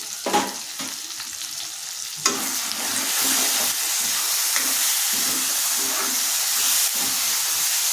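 A curry with tomatoes fries in oil, sizzling and hissing steadily as a spoon stirs and scrapes through it, with a few sharp knocks near the start before the sizzle swells.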